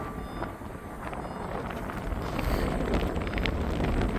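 Strong wind buffets a microphone on a rooftop at a steel construction site, a dense, rumbling roar that builds slightly and holds steady throughout.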